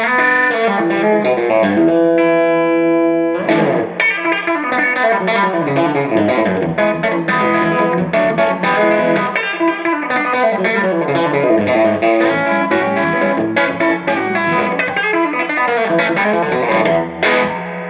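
An electric guitar plays clean tones through a Time Travel TT15 amplifier. Loud chords and picked notes ring on steadily, with a chorus-like shimmer and a slight edge of grit, and no talking over them.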